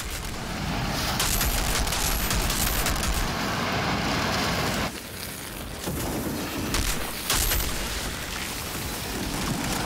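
Dense, chaotic gunfire crackles almost continuously in an Outriders Technomancer firefight, with heavier bursts and explosive grenade thumps rising out of the din, loud and close.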